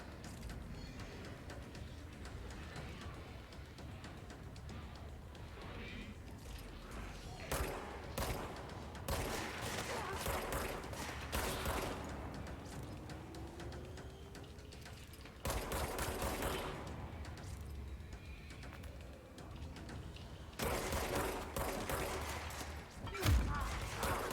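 Dense, repeated bursts of gunfire from shooting enemies in the video game Control, loud and continuous with heavy rapid volleys and impact thuds, lasting throughout with brief lulls between flurries.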